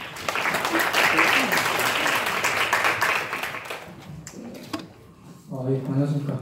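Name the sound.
seminar audience applause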